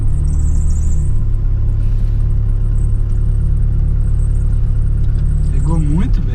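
A car engine idles steadily on pure ethanol with a FuelTech engine management system, a loud, constant low rumble under a faint high whine, with a brief rising squeal near the end.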